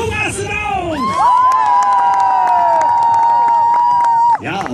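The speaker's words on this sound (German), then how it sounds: "Das Publikum rastet auf." A hall full of children at a Snow White fairy tale show erupts in loud, sustained shrieking cheers that swell and hold for several seconds before cutting off abruptly.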